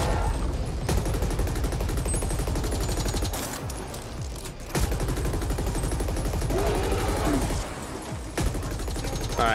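Sustained gunfire from enemies in a top-down shooter video game, dense and continuous across the clip with a brief lull near the middle, loud and close with no talk over it.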